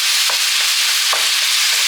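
Ground beef being broken up in a hot pan for chili, a loud continuous sizzle with soft rhythmic scraping of a utensil through the meat, no voices.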